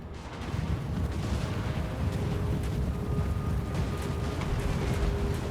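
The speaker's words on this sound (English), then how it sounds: "I'm going to let my mortars go ahead and fire for a second" Mortars fire in the Total War: Warhammer battle game, a steady wash of distant thudding artillery and rumbling battlefield noise that holds at an even level throughout.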